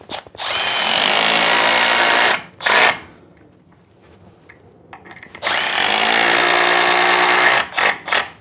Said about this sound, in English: you can see that the screws just pull in nice and softly because the batten isn't over dry